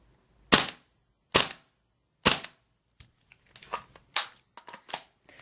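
Custom GHK G5 airsoft rifle with an integrally suppressed build firing single shots: three loud, evenly spaced cracks, then a quicker ragged string of softer pops and clatter, close by with no talking.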